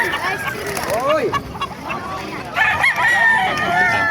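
A rooster crows at a busy Bocaue tyangge chicken market, its rising strained calls standing out at mid distance over a dense crowd murmur and nearby vendor chatter.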